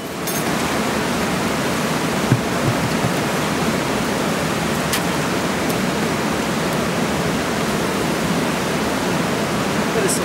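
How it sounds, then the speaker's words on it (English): Bucket of cold water poured into a dry pool, making a steady, loud rushing splash that continues unbroken for the full ten seconds with no voices over it. "I'm going to pour a bucket of water in here."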